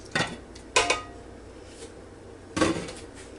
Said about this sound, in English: I'm just cutting through just a little bit before I put the rice on top of it